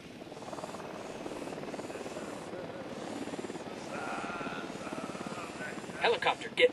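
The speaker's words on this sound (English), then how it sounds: "Helicopter, get down." A helicopter flies in the video game Ghost Recon Wildlands, a steady rotor thump and engine drone throughout with someone talking over it and gunshot-like bursts near the end.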